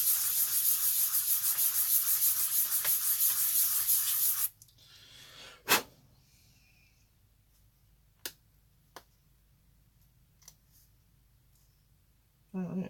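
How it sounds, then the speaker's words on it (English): Sanding the back of a wheel on a 1964 Ford Galaxie scale model car, a close, steady hissing rasp for about four seconds, then small clicks and taps of handling in near silence. "Just a tiny little bit of sanding on that wheel back"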